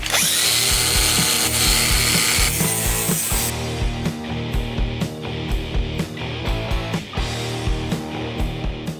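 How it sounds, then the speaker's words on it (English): An angle grinder grinding welds off a car body panel: a loud steady abrasive whine for the first few seconds, then a series of short, choppy grinding passes as the disc is pressed on and lifted off the metal. "It's all welded up now, so let's grind off these welds."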